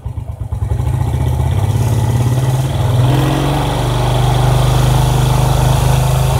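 A motorcycle engine idles steadily and loudly nearby, with a low throbbing drone that rises slightly partway through and holds.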